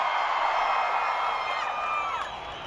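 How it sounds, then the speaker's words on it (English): Audience at the VMAs, a dense, sustained roar of crowd noise with cheering and whoops, loud and continuous, with some voices rising above the wash. "Audience audio."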